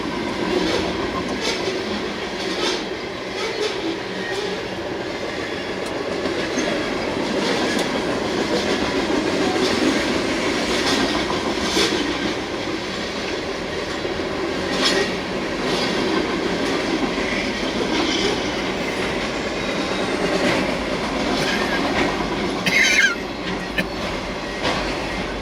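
A 3.5-mile freight train hauled by six engines with distributed power rolls past, carrying 275 cars and 36,000 tons, a loud continuous rumble with rhythmic clickety-clack of wheels over rail joints and occasional squeals, close by.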